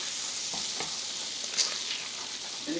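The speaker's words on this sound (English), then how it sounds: "Quarter stick of butter, people, starting off in there." A quarter stick of butter sizzles in a pan as shrimp vodka pasta gets started, a bright, steady hiss with a few soft clicks and scrapes and no talking.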